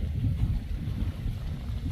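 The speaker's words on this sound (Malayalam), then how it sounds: "നല്ല കാറ്റുണ്ട്" Steady wind over paddy fields in Kuttanad, Kerala, buffeting the microphone with a low, continuous rumble, no voices.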